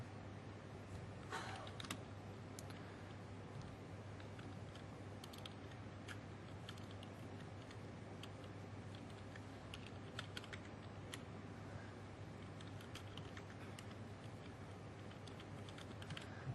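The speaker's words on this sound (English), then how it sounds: "I'm going to run it from a command line" Command being typed on a computer keyboard, steady rapid key clicks running throughout against a constant low hum, with no voices.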